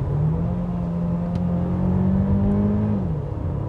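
A Mercedes CLA 200 engine revs hard in sport mode, its pitch climbing to about 6500 rpm, holding briefly, then dropping. A steady, loud, close drone with no talk.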